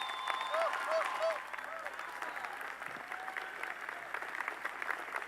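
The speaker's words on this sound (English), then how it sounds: "Can we have another round of applause for Christine?" Audience applause fills a university commencement ceremony for the class of 2023, steady clapping from a large crowd that swells at first and then eases to a lighter, sustained patter.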